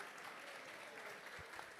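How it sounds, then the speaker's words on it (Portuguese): A church congregation gives a short burst of steady, dense applause that stays even from start to finish, with no voices over it. "Vamos aplaudir mais uma vez."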